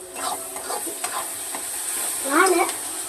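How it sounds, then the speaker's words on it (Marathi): Chopped vegetables with tomato sizzle and roast in a hot pan, a soft continuous frying hiss with a few scraping stirs and a brief louder burst near the end. "आता छान असं खरपूस भाजून घेते"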